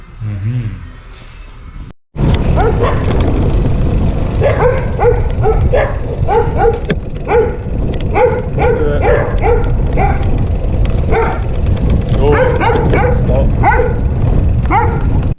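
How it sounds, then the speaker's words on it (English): Several dogs in Colombia bark repeatedly and excitedly close by, overlapping yips and woofs in irregular bursts over a loud noisy background. "Dogs have been chasing me today"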